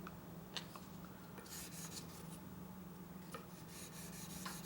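Stainless steel liner of a Demko AD20S knife is polished by hand, giving a soft continuous rubbing hiss broken by a few sharper rasping strokes, faint and close with no talk.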